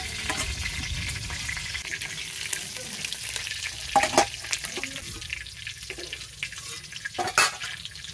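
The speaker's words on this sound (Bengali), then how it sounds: "ডিমটা নেড়ে চেড়ে খুব সুন্দর করে ভেজে দিতে হবে।" An egg fries in hot oil with a continuous sizzle, broken by a few sharp clacks and scrapes as it is stirred and turned in the pan.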